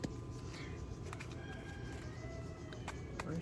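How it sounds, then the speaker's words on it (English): A rooster crows faintly in the distance over a steady low background hum, with a few soft clicks. "Rooster is noisy."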